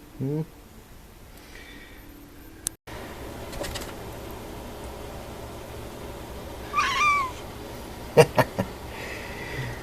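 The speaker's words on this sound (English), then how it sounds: "You got a little kitten meow?" A kitten gives a few short, high meows close by indoors, with someone talking softly to it between the calls.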